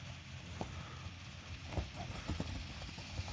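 Faint, distant hoofbeats of a draft horse mare clip-clopping at a walk on slippery ground, with irregular steps over quiet background noise.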